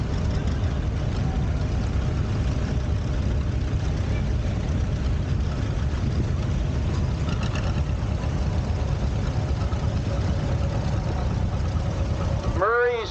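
A 1951 Oliver 77 tractor, 36 horsepower and weighing 5,500 pounds, rumbles with a steady, loud engine drone throughout at an outdoor show, with an announcer talking over it and a brief squeal near the end.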